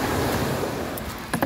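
Sea waves wash onto a beach in a continuous broad rush of surf, loud and close, with a few faint knocks near the end.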